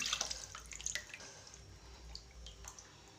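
Water splashes and drips as jalebi fish are rinsed by hand in a vessel, with a busy cluster of wet sloshes near the start and scattered quieter drips afterward, close by with no talk.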